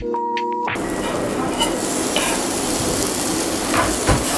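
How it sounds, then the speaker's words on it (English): Steady, dense sizzling of dumplings frying in a pan, loud and close, with a few faint clinks and scrapes; no one speaks. "I'm going to start frying these bad boys"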